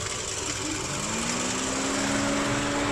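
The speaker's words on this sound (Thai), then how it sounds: "นี้เราก็ติดเครื่องยนต์ไว้นะครับ" A steady, droning Toyota Camry engine idles continuously at close range, a low even hum with a faint rising tone, no voices.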